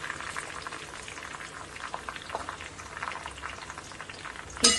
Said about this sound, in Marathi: अगदी आपल्याला ह्याला मंद आचेवर हे तेल आपल्याला शिजून घ्यायचे आहे।